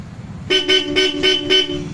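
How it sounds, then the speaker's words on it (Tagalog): A Bosch horn on a Yamaha Xmax scooter beeps five times in quick, even succession, loud and close, with a faint background hum between the honks. "Tapos busina, Europa kami nag-install niyan."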